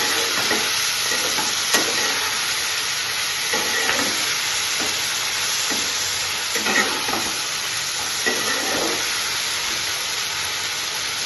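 Onions and tomatoes frying in a pan for paneer curry, a continuous loud sizzle and hiss with periodic scraping and stirring strokes throughout.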